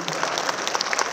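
Audience at a televised cultural event in Tripura claps together in a brief, dense burst of applause, with individual claps standing out.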